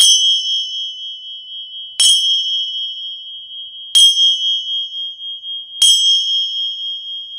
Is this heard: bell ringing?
yes